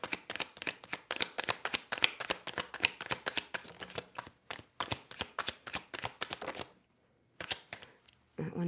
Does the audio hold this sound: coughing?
no